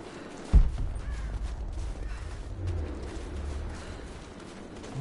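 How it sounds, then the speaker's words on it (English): A crow-like bird caws a few times in the game Rise of the Tomb Raider, moderately loud over a low ambient rumble, after a sharp thud near the start. "Like, am I supposed to shoot this bird?"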